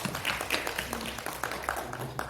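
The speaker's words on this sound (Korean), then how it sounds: "우리 이승길 교수님을 박수로 맞이해 주시면 감사하겠습니다" Conference audience applauds to welcome a law professor to the stage, a moderate patter of many hands with a few sharper individual claps standing out, unaccompanied by talk.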